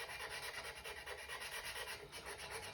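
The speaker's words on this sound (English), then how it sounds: "usually I like to use a very fine diamond file because you don't want to use a rough file to do that" A fine diamond file rubs back and forth over the edge of a pottery trimming tool, a faint, steady rasping stroke repeated in an even rhythm with no talk.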